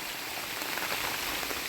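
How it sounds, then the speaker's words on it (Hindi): Heavy monsoon rain pours down on a forest around a hut near a jungle ashram, a dense, steady roar of drops hammering surfaces close by with no pause. "बारिश बहुत तेज़ आ गई आगे"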